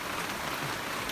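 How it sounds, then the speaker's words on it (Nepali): Steady rain falls close by for a moment, an even, dense hiss of drops with no voices over it. "पानी पर्यो"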